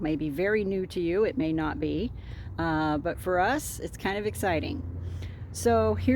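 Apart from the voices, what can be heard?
None of the usual background noises is heard.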